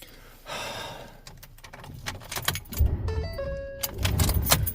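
A car engine cranks again and again without catching, giving a rough, churning rumble with uneven surges, and breathing and small movements are close by.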